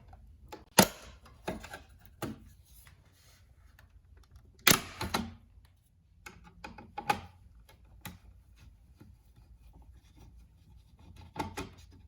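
Plastic trim is pried off a Subaru STI side mirror, giving sharp, scattered clicks and snaps at irregular intervals. The loudest pops are close, with quieter handling noises in a hushed room between them.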